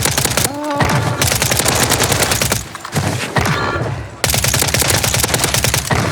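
Rapid gunfire from a game of Warzone 3, continuous loud bursts of shots through nearly the whole span with brief gaps, a handful of short electronic tones near the start and over the middle, no talk.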